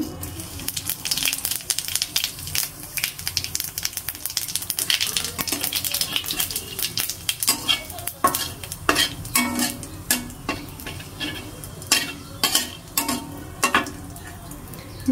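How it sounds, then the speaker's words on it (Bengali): Cumin seeds sizzle in hot oil in a pan, a steady crackling fry broken by sharp scraping and clattering bursts from stirring, close and fairly loud with no talking. "তেলটা গরম হয়ে গেছে, জিরা দিয়ে দেবো।"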